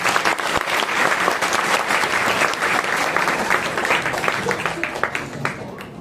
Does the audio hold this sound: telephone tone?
no